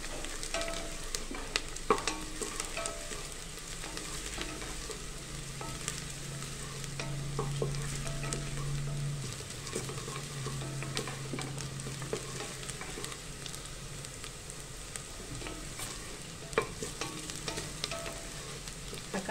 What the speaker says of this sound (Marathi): चांगला लालसर कांदा करायचा आहे आपल्याला।